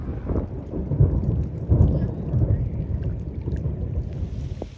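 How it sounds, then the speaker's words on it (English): A mountain thunderstorm rumbles with deep rolling thunder over steady rain, loud and close, continuous for several seconds with the rumble swelling and fading. "just waiting out a thunderstorm"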